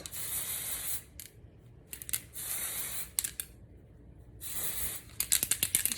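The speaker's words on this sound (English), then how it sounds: "So then you're just going to spray it at your roots." Dry shampoo aerosol can spraying at hair roots in repeated hissing bursts, several long sprays separated by pauses, then a flurry of short puffs, close and fairly loud.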